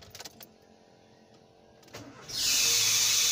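Nissan car engine with a suspected dry bearing or worn belt: a quiet idle with a few clicks, then a loud steady hissing whine that starts abruptly and continues.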